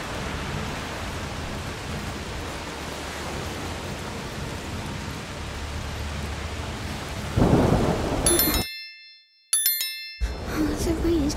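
Steady heavy rain and rumbling thunder from a storm in the video game A Plague Tale: Requiem, a dense wash of noise that swells louder near the end, with a sudden drop to silence and faint chime-like tones.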